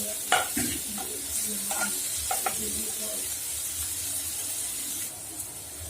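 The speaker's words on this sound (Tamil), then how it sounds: "இது நல்லா மிக்ஸ் ஆகும். கொஞ்ச நேரம் வதங்கட்டும்." Peas sautéing in a pan with turmeric and chilli powder, giving a steady sizzle and frying hiss throughout, with a few louder stirring scrapes and clinks near the start and middle.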